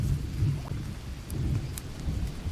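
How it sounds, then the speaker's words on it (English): Steady rain falls in the Green Hell jungle, a dense, continuous patter with low rumbling underneath and a few sharper drip-like ticks, heard alone without voices. "It's just the rain seems to have come back a little bit."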